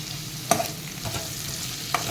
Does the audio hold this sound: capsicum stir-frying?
yes